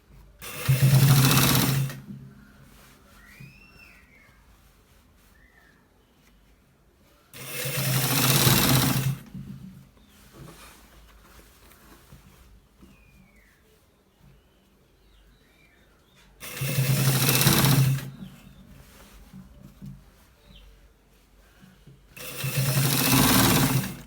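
A sewing machine stitching a shirt collar runs in four loud, steady bursts of a few seconds each, separated by quieter pauses with faint handling noise and distant bird chirps.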